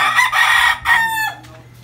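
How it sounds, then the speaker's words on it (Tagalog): A rooster in a chicken coop lets out a loud, close crow in two drawn-out bursts, then trails off into softer clucking from the hens around it. "Ganda ng mga manok ni Boss Jimboy."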